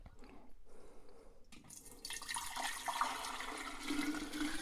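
Homemade chicken bone broth is poured into a container as a faint, continuous liquid splash and trickle that grows fuller partway through, with no talk over it.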